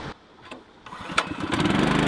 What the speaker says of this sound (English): Let's see if the water pump starts.